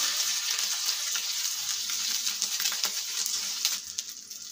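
Cutlets for burgers fry in a pan, giving a steady hissing sizzle with small crackles and pops, close and moderately loud without talk.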